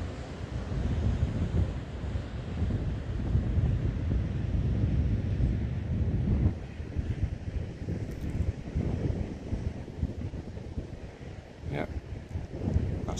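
Strong gusty wind buffets a phone microphone on the coast at Westward Ho!, England, with a deep roaring rumble, and surf washes faintly in the background.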